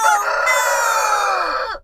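A rooster gives one loud, close crow that holds steady and then cuts off abruptly, heard alone.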